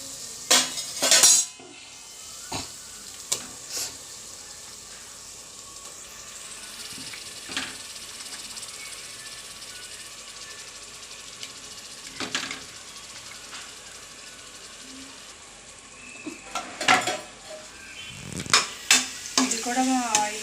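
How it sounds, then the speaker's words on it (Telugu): A coconut paste mixture fries in a pan for chicken masala gravy, a steady low sizzle broken by scattered utensil clinks and scrapes, louder bursts near the start and end. "ఇంకా అది కూడా మనం ఇందులో బాగా ఫ్రై చేసుకోవాలి"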